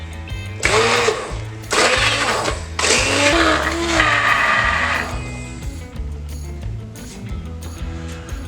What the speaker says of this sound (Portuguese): depois vamos triturar tudo com um mixer